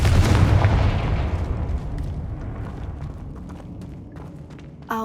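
A Confringo blasting spell explodes in Hogwarts Legacy, a loud deep boom at onset that rolls into a long decaying rumble, with a sharp short burst near the end.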